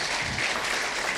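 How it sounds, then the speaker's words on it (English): Brief applause from an audience after a Macedonian folklore studio performance at a security summit in Skopje, a short continuous patter of clapping with no voices. "Wow, ajmo još jedan pljesak"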